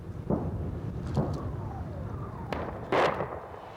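British artillery shells burst a few hundred yards away near a building in Iraq, several sharp blasts spaced irregularly over a rumbling background, with a faint whistling streak between them.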